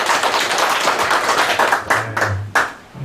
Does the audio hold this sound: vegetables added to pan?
no